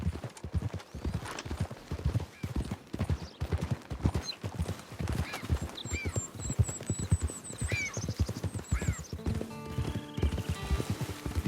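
A horse's hooves clip-clop steadily in Red Dead Redemption 2, a loud, even walking rhythm that runs throughout. Whinnies and neighs sound partway through, and a little music rises near the end.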